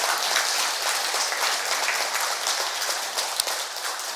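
An audience claps during an economics lecture in a church hall. The applause is a thick wash of many hands, loud and continuous from start to finish, fading slightly toward the end.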